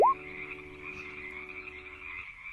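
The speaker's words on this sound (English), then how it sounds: "there's a lot of frogs here." Many frogs croak in grassy patches and rain puddles, a steady, fairly faint chorus after a brief squeaky chirp at the start.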